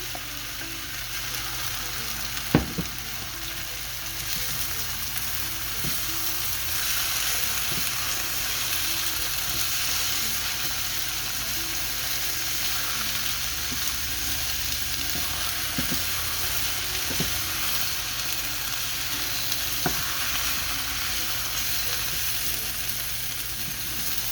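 Ground meat mixture sizzles steadily in a hot pan while being stirred, with occasional scrape and clink of a utensil against the pan and no talking, close and continuous.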